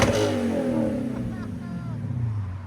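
A Lexus IS F with a 5.0L engine and muffler delete revs hard toward redline, a loud, rising engine roar with harmonic sweeps that holds steady near the microphone, with voices faintly audible underneath.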